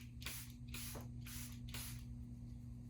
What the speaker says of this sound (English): Went with just some Charlotte Tilbury setting spray